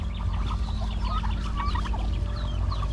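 A hen with three growing chicks on a small farm, soft clucking and peeping calls repeating over a steady background hum, close by and with no voices.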